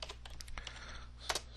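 Quick, close clicking on a computer keyboard while JavaScript code is typed, a short burst of light, irregular keystrokes with no voices.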